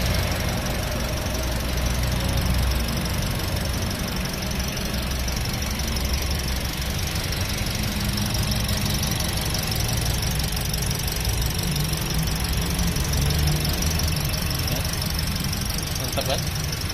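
A 2017 Toyota Calya G automatic car engine runs steadily with a loud, continuous, close-up hum and ticking mechanical noise throughout.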